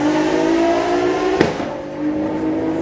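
A Toyota Supra drag car of roughly 1500 horsepower makes a loud, sustained engine roar down the strip at a street car event, with a sharp burst near the middle and the drone continuing steadily afterward.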